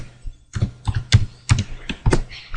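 Close, crisp keystrokes on a computer keyboard while typing a name into an Excel attendance sheet, a quick irregular run of about a dozen clicks after a brief pause.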